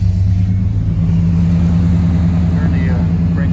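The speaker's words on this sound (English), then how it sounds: "Crank the engine up a little bit so you can hear the tone of these mufflers" A 1990 GMC Sierra pickup truck engine idles through its mufflers with a deep, steady rumble, its low drone constant throughout, nearby and fairly loud.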